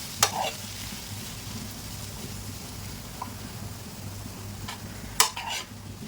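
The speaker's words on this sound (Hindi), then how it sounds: "ये डाल देंगे कोतमीर कटी हुई और इसको हम अच्छे से मिक्स कर लेंगे।" A kachori filling of mashed ingredients and chopped coriander is stirred in a hot frying pan. A steady low sizzle runs throughout, with a few sharp spoon clinks against the pan near the start and the end.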